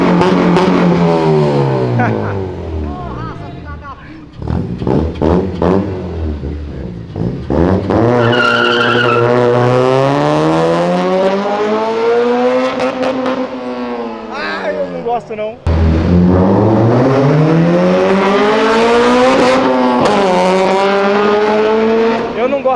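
A BMW M3 engine screams as it revs hard against the limiter, with repeated rising and falling pitch sweeps, tire squeal and close, loud engine noise throughout.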